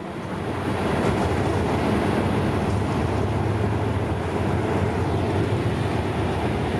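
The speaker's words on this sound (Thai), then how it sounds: "ยีเคสี่ศูนย์หนึ่งแปดนะครับ กำลังเข้ามา" GEK 4018 diesel locomotive arriving at Chachoengsao station in Thailand, a broad steady low rumble and wash of noise that swells in and holds, with no talk.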